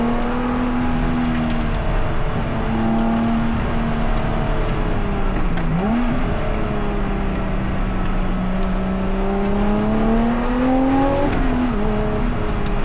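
A Lotus Exige V6 350 pulls hard, its engine note rising and falling steadily through the gears from inside the cabin, a continuous droning whine with no talking.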